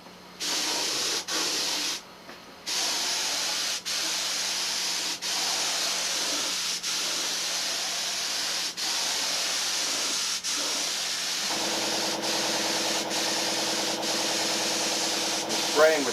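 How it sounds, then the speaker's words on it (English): A spray gun driven at 30 pounds of pressure lays down candy apple lacquer thinned about two parts thinner to one, a steady close hiss broken by short gaps as the trigger releases, with a mechanical hum joining near the end. "Spraying with 30 pounds of pressure and about 2/3 thinner, 1/3 candy apple lacquer."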